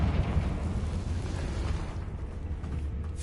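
Confringo blasting spell in the Hogwarts Legacy video game: a loud, dense rumbling burst with a crackling, roaring tail that stays heavy and continuous for several seconds without any voices.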